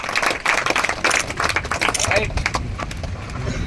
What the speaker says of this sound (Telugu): కొట్టాలి క్లాప్స్ కొట్టాలా